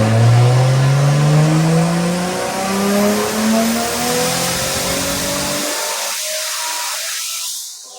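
A drift competition car's engine roars at close range, revving loud with rising and falling pitch, then cuts out abruptly, leaving a fainter high whine and some distant engine noise.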